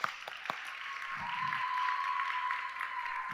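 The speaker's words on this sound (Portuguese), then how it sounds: "Uma salva de palmas para eles." A church audience applauds, a steady wash of many hands clapping at moderate distance that holds evenly for a few seconds.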